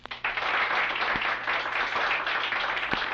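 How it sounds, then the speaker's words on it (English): Applause from a crowd fills the space at a steady, dense level, a sustained wash of clapping that holds for about three seconds with no voices. "and everyone clapped"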